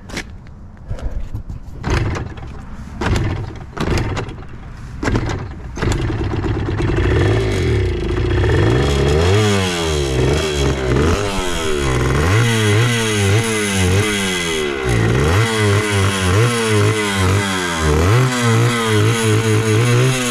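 A JR80 pit bike motorcycle engine clatters and sputters through a few starting attempts, then catches and runs loudly up close, revving up and down repeatedly in rising and falling sweeps.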